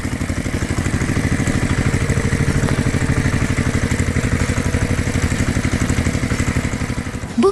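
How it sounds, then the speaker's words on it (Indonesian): A red tractor's engine drives forward with a loud, rapid, even chugging that holds steady from start to finish, close and with no voices. "Traktor merah menggeber ke depan, menggerakkan debu di sekitar hutan hijau. Suara mesin menggelegar"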